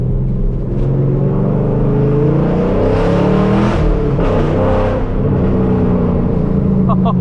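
A fifth-generation Chevrolet Camaro SS rumbles along at a steady cruise, its deep engine and road noise loud and continuous from inside the car, with a voice talking briefly over it.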